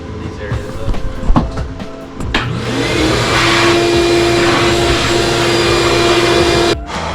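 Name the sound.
vacuum cleaner cleaning around car engine intake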